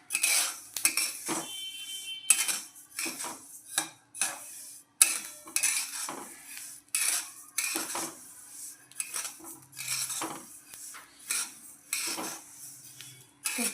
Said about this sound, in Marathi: ती तळतळू द्यायची, तोपर्यंत भाजायची